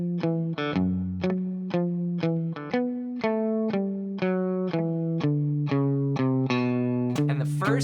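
Electric guitar plays the final turnaround riff of a song, a run of evenly picked, sustained notes descending chromatically at a steady tempo with a thick, effected tone, heard alone and close up.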